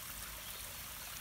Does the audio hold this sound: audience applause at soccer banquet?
no